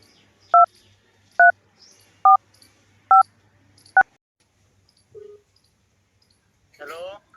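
Telephone keypad dialing tones: five short, clear beeps at an even pace, followed by quieter faint noises near the end.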